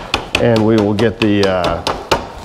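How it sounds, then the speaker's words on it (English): Sharp hammer taps on the axle of a BMW R1200RTW motorcycle wheel, several crisp knocks spaced through the clip, heard close up and mixed with someone talking. "just a little tap with a hammer"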